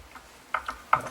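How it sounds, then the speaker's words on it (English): Tuning pegs on a Fender Telecaster guitar are turned to slacken the strings, giving three short ratcheting clicks spaced across about a second, close and quiet with no talk. "now I'm going to loosen these strings"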